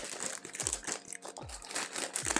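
Plastic packaging crinkles and crunches in repeated bursts while a plant is unboxed, close and fairly loud, with no talk over it.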